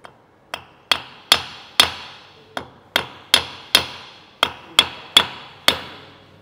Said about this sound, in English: Could you give me some taps with the brass hammer up here, Kevin?